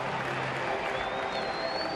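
Applause and crowd noise fill a baseball stadium during a Detroit at Minnesota game, a steady wash of distant clapping and murmur with no individual claps standing out.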